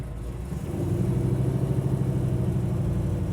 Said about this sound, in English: Hopefully you can hear the sound of this exhaust system and the motor.